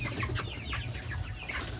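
Desi chickens on a farm cluck and chirp in short, overlapping calls against a low steady hum, close and moderately loud, with no one talking.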